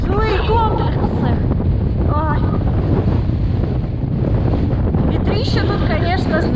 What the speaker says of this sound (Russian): Ветрище тут, конечно, знатный.